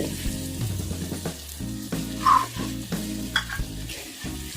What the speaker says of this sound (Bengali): চিনি দিয়ে আবার আমি 2-3 মিনিট ভালো করে নেড়ে চেড়ে নেব।